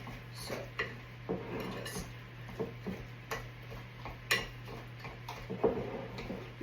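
Zucchini bread batter being mixed in a bowl, a series of light, fairly regular taps and scrapes of a utensil against the bowl, quiet and close.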